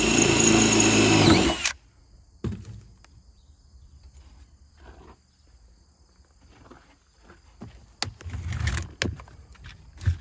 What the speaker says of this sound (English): now we got to drill a hole here, get it in place